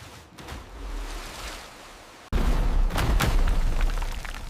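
Forest floor blasting apart in an animated fantasy battle: a sudden deep boom cuts in midway and becomes a loud, sustained rumble of debris and mud after a quieter lead-in.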